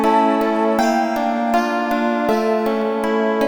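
Omnisphere synthesizer lead patch with a sharp, plucky attack, playing a steady run of bright notes whose onsets land roughly every half second over sustained harmonic tones, loud and alone.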